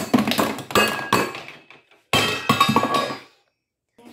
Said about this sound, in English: Now you're gonna need to smash it with a jackhammer.